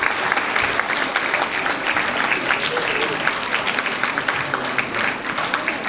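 Audience clapping at a school annual day as the class 10 topper is honoured, a bright, busy burst of many hands applauding together, loud and sustained through the whole short stretch with scattered crowd noise.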